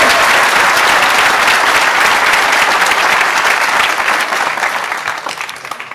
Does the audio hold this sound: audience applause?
yes